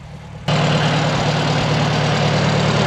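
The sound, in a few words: farm vehicle engine running in the cold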